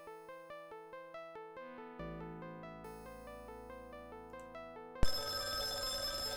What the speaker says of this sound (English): You hear the quiet ringing of the phone from the kitchen.